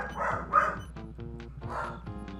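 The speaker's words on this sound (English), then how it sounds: "somebody's dog's running around the neighborhood. That's why they're barking" Neighborhood dogs bark in quick repeated bursts, several loud close woofs with a few softer yips between them, alone with no talk.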